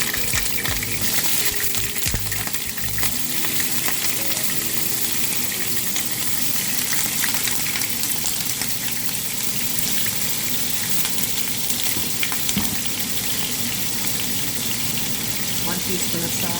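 Soya-chunk chow mein noodles fry in about four teaspoons of oil with broccoli and cabbage, giving a continuous hissing sizzle broken by scraping stirs in the pan.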